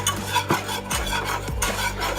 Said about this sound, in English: So add in your heavy cream slowly. Don't add it all at once. And then stir it.